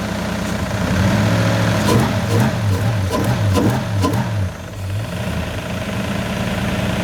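A V8 engine in a C33 Nissan Laurel idles with a steady low rumble and a rhythmic ticking rattle layered on top, continuous and close.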